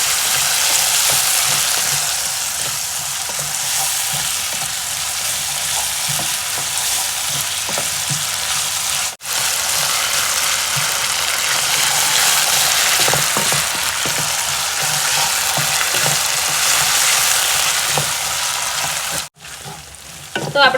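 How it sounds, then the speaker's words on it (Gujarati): Thin potato chips fry in hot oil in a pan for sabudana khichdi, giving a loud, steady broadband sizzle that runs throughout, with a couple of brief drops and occasional stirring clicks, and no talking. "મેં બટાકા સમારીને પતલી ચિપ્સ લઈ લીધી છે તો એ આપણે નાખી દઈશું અને એને ચડવા દઈશું।"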